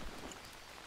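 Rain falling in a jungle in the survival game Green Hell, a soft, even hiss of drops with no voices.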